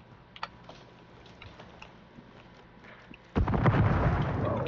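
Quiet crackles and faint pops, then a sudden loud explosive rumble from a bomb drone that keeps roaring until the end, in a Call of Duty Warzone match.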